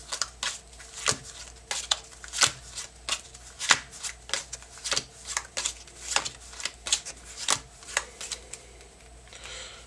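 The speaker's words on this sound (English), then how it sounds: "you put a card down and you put a card under" Playing cards are dealt for a poker hand, one at a time in a steady rhythm of about twenty crisp slaps and snaps, close and fairly quiet with no talking.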